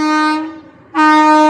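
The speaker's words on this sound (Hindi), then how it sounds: "देख अभी देख, ट्रेन आ रही ना" Loud, sustained train horn blaring as a train passes, a steady multi-tone blast that briefly drops away and then returns at full strength.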